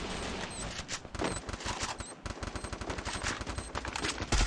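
Rapid automatic gunfire in the battle royale shooter Free Fire, dense bursts of shots with loud rattling volleys that keep coming in quick succession, with a heavy blast near the end.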